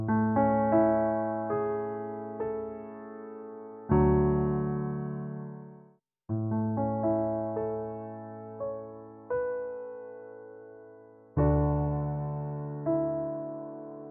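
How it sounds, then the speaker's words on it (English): A close grand piano preset in FL Studio, played from a MIDI keyboard, sounds a slow series of sustained chords, each struck note ringing and decaying before the next, with a brief gap near the middle and no talk. "So this is the first one, close grand."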